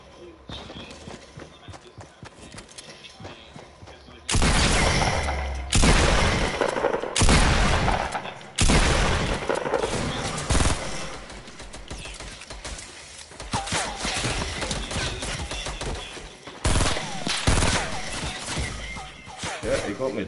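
Bursts of loud gunfire in Fortnite, several heavy volleys in irregular clusters over a quieter game background, with people talking at times.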